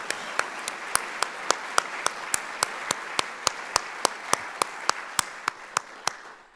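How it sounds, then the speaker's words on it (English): Audience applause at a Founder's Day lecture, with steady clapping from a crowd and sharp regular hand claps standing out clearly throughout, fading slightly at the end. "I think we should give him a round of applause"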